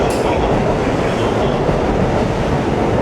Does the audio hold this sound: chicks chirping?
no